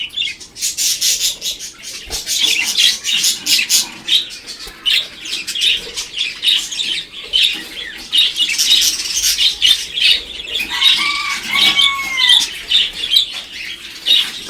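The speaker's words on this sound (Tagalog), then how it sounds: "So, unahin muna natin itong rainbow material parakeets ko." Rainbow parakeets in a backyard aviary chatter and squawk near and loud in rapid, busy bursts, with wing flutters and sharp chirps scattered across the whole stretch.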